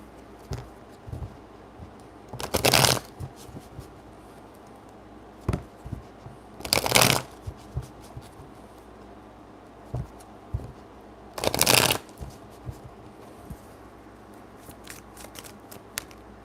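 Oracle cards being shuffled in three distinct bursts, each a crisp riffling rush lasting under a second, separated by quieter taps and small handling noises in a quiet room.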